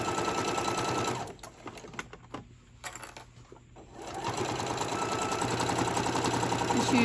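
A sewing machine stitches tote bag fabric in a fast, steady whirring run, stops briefly for a couple of seconds of quiet handling, then starts again and runs evenly to the end.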